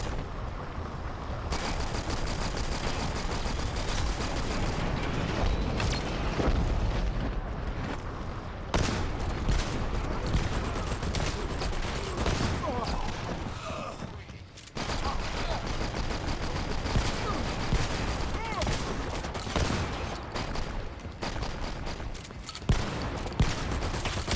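Shotgun and other gunfire in the first-person shooter Dirty Bomb, loud sustained bursts of shots and explosive blasts nearly continuous over a noisy game mix, broken by a couple of short lulls.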